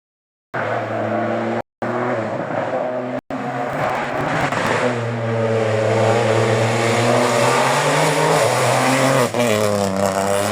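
A Rally 4 car engine revs steadily and loudly on a rally stage in Llanes, Spain, its pitch climbing and falling, with two brief cuts near the start before a sustained roar.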